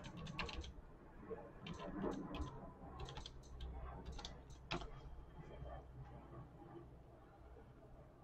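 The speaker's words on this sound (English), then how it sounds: "Take caps lock off so I can type in my password." Typing on a computer keyboard while logging in to a VT132 terminal emulator, a run of soft, irregular key clicks in short bursts with pauses, fairly close and quiet over a low background hum.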